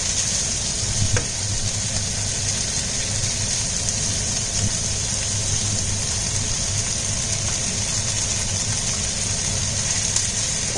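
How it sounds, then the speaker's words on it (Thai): Bamboo shoots with glass noodles, egg and spring onion stir-fried in a pan, giving a steady, loud sizzle throughout with faint scraping and stirring. "ผัดให้เข้ากันนะคะ"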